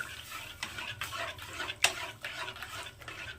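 Semolina thickening in milk in a pan is stirred steadily, with a rhythmic series of soft scraping strokes and one sharper metallic clink, close by with a faint sizzle beneath.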